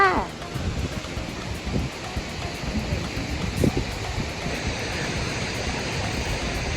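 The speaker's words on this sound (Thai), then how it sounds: "น้ำตกคุณมิง อันนี้ก็คือ น้ำตกที่สร้างขึ้น" A man-made waterfall at a Chinese condominium development rushes steadily, a broad continuous splashing roar close by with faint intermittent voices underneath.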